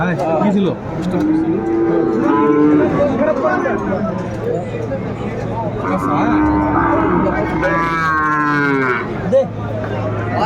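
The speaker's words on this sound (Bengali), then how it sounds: "বেশ সুন্দর সাইয়াল বাচ্চাগুলো যেখানে বাচ্চা কেনা হচ্ছে আমরা সে জায়গায় রয়েছি" Sahiwal bull calves moo repeatedly at a busy cattle market in Cumilla, their long, loud calls rising one after another over a steady murmur of the crowd.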